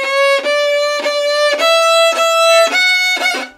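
Violin bowed with too much pressure gives a strained, scratchy tone in a series of separate bow strokes, each held about half a second with brief breaks, close and loud with no talking.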